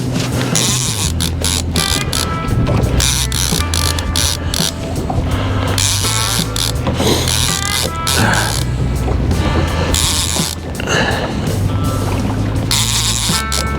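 A fishing reel's drag clicks in a steady rapid ratchet as a striper pulls line while trolling on a lake, loud and close, with a motor hum underneath and no talking.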